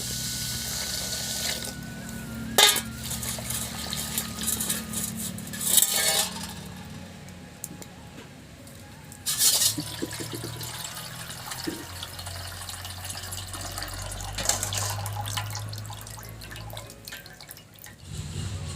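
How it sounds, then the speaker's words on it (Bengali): Water drips and trickles as sesame seeds are rinsed and strained to wash out sand, with soft splashes and steady liquid pouring that comes in bursts over about nineteen seconds, close and moderately loud. "তিলে অনেক বালি থাকে, সেজন্য আমি জল দিয়ে ভালো করে ছেঁকে নেব"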